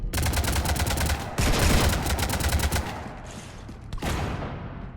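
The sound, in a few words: gunfire in Mass Effect 3 video game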